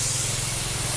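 A pressure sprayer mists pesticide over chili plants grown for green finger chilies, a steady, close, continuous hiss that holds evenly for the whole moment with no voices over it.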